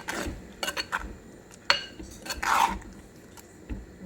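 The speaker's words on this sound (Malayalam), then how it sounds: "ഈ അരപ്പും കൂടി ചേർത്ത് നന്നായിട്ട് മിക്സ് ചെയ്യാം." Ground coconut paste is stirred into a pot of dried shrimp, mango and jackfruit seed curry, giving scattered close clinks and scrapes of a spoon against the pot with soft wet squishes between them.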